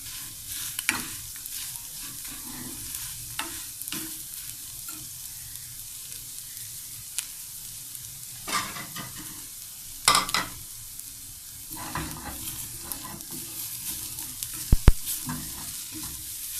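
Scrambled eggs with spinach and cabbage cook in a non-stick pan, a steady low sizzle under repeated scraping and stirring strokes, with a few sharper utensil knocks near the end; no talking.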